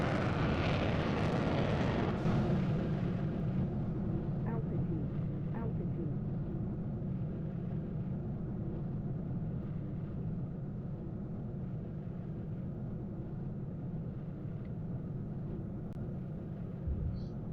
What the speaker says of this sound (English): we'll go ahead and pop our burner